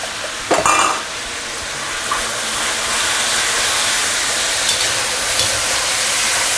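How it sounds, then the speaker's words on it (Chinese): Pixian chili bean paste cooks with ginger, garlic, dried chilies and red Sichuan peppercorns over medium-low heat, a steady close sizzle with a few clanks of the spatula on the wok near the start. "开中小火，慢慢给它炒一下，把豆瓣酱给它炒熟"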